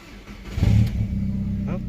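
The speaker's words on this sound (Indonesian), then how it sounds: "Kita masukin di sini dan langsung kita nyalakan aja mobilnya." A 2000 Audi TT Coupé 1.8 Turbo with manual gearbox cranks and catches, its engine swelling to a brief rev before settling into a steady idle, heard close by.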